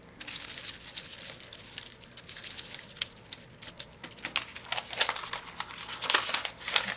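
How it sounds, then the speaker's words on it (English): A damp sheet of vellum paper is crumpled by hand, giving close, crisp crinkling and crackling in irregular bursts that grow louder and sharper toward the end. "be a little more careful when you're crumpling it because it's vellum, so it's not very strong"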